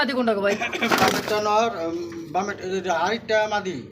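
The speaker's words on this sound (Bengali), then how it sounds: "অনেক সুন্দর একজোড়া দেশি পিওর দেশি গোল্লা কবুতর" A pair of pure desi Golla pigeons coo in low, rolling calls close by, partly covered by someone talking loudly over them.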